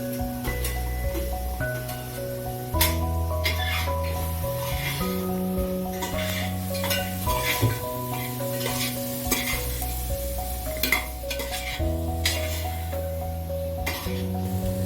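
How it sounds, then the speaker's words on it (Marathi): Green peas are stirred into fried masala in a hot pan, giving steady sizzling and repeated spoon scrapes under background music. "आता आपण त्यात मटार घालून घेऊयात"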